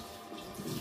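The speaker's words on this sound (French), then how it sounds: "vous allez à votre robinet" Water runs from a kitchen tap in a short, quiet, steady hiss that swells slightly toward the end.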